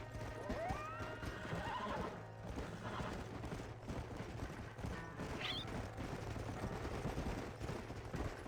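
Horses in the Red Dead Redemption video game, whinnying near the start and clip-clopping on the ground throughout, with faint background game sounds.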